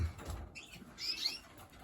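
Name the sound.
birds at a bird show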